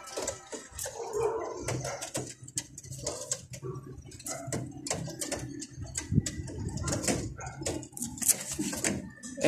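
Young pigeons in a loft give soft, repeated coos and rustle close by, with scattered knocks and clatter among them.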